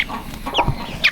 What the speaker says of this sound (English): As you can see, there are lots of new chickens in the works.